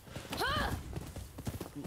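Horse hooves clip-clop in the video game Rise of the Ronin, a quick run of close hoofbeats with a brief whinny, while someone speaks over them.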